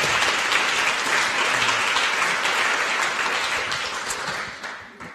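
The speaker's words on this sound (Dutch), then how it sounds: "Applaus." Audience at an evening talk event applauds warmly, a thick continuous wash of clapping that holds steady before tapering off near the end.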